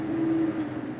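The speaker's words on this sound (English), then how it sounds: "there's my garbage truck. You can probably hear it in the background." A steady low engine drone of a garbage truck hums in the background, with a faint brief hiss partway through.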